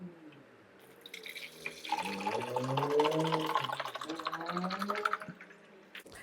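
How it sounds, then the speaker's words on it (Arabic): Mineral water pours into the tank of a De'Longhi Dedica EC685 coffee machine, a steady rising gurgle and splash that builds and fills for several seconds, close by and alone. "هبدا ان انا املاه ميه، طبعا انا بحط لها ميه معدنيه"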